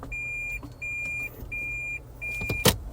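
A car sounds four evenly spaced electronic beeps in a parking garage, each about half a second long, close and clear, followed by a couple of low thumps.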